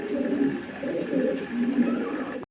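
Pigeons in a breeder's loft, including a German Beauty Homer, coo in soft, low, repeated phrases that run steadily for a few seconds at close range.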